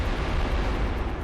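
A bomb blast in Wild Arms 3, a brief dense roaring rumble with no distinct separate hits, loud and steady with no talking.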